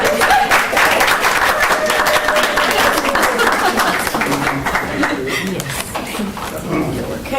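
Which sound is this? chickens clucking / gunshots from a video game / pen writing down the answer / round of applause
round of applause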